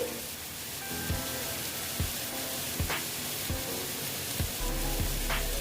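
Onions frying in a pan for a Bengali boal fish curry, a steady close sizzle running throughout with a few soft stirring knocks, no voices.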